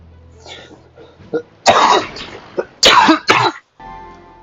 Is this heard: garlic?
no